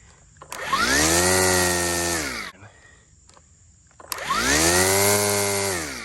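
A Stihl FSA 135R battery trimmer whines up to full speed as its trigger is pulled, then drops off, pauses briefly and spins up again. The motor is loud and close, and no one speaks.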